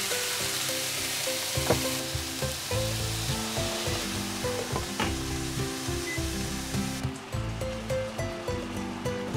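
Meat rolls stuffed with grated daikon frying in a pan, set seam side down, giving a steady close sizzle and crackle with occasional soft knocks, the high hiss thinning slightly near the end.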